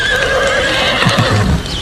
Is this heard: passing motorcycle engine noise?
no